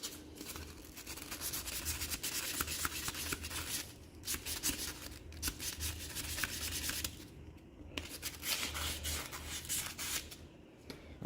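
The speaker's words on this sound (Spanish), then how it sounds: "Vamos a seguir lijando." Steady, rhythmic rasping of sandpaper scrubbing a surface, close and continuous with brief pauses between strokes.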